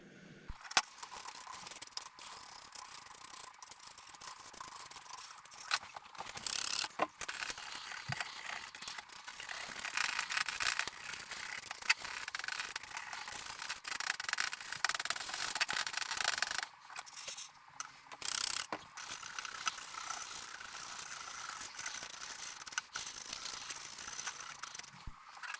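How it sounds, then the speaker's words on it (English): Brush bristles rub and scrape steadily across a Sega Mega Drive circuit board, clearing debris in a continuous close-up rasping texture with short pauses and no talk. "I'll brush off the debris and then I'll attack it with some IPA."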